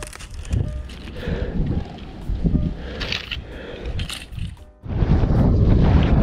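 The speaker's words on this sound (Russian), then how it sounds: "Такие порывы ветра." Wind buffets the microphone in irregular gusts, swelling and dropping, ending in a strong sustained roar.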